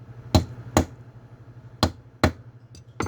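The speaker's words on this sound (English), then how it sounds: "We're going to go ahead and tap that down back on to those studs there." Five sharp taps of a scooter ignition switch cover being knocked down onto its mounting studs during locksmith work on an Aprilia, spaced irregularly and close, over a steady low hum.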